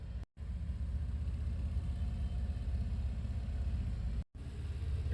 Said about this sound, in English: rolling out of Chippewa Falls, Harley Davidson with a big group in tow